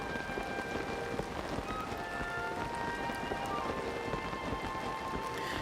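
Steady rain falls in The Legend of Zelda: Tears of the Kingdom, a continuous soft patter of drops on surfaces at moderate volume, unchanging throughout.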